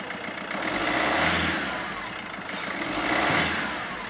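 Fiat Doblo 1.3 diesel engine with tar-clogged internals, revved in two rising and falling surges shortly after starting, close and loud with no talk.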